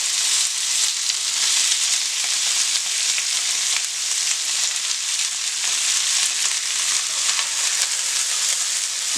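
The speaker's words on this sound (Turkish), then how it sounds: "Yağımız iyice ısındı ve etimizi atmaya başlıyorum" Steady, dense sizzling of meat for burritos frying in hot oil, loud and close, with a constant crackling hiss and no voices.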